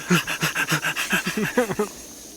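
A voice imitates a dog's quick panting, a rapid run of short breathy huffs in even rhythm that stops abruptly.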